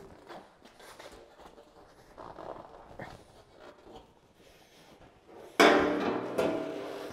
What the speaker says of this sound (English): I only tapped this dent a couple times with the dolly, just using this big dolly as a hammer.